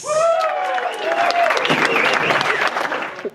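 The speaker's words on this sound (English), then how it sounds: "give her a big round of applause for Sarah White" A comedy club crowd gives a big round of applause as a comedian is welcomed to the stage, with loud, dense clapping and whoops and cheers rising over it.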